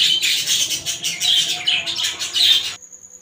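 Budgerigars chirp busily in an aviary, a dense, continuous twittering of many birds close by that runs for most of the stretch and then stops abruptly, leaving faint background noise.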